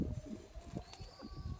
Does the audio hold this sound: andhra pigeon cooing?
yes